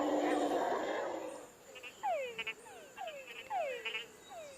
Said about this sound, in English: This noise is made by frogs.